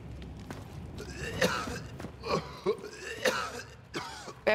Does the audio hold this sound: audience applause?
no